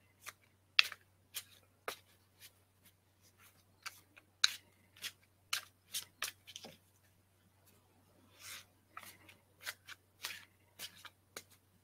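Quiet, intermittent riffle-shuffling of tarot cards, short papery bursts repeating irregularly at close range, with soft handling noises in between.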